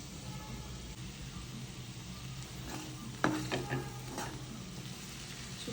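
Bitter gourd cooking with jaggery in a pan, a faint low sizzle running steadily with a brief cluster of utensil scrapes and clinks near the middle.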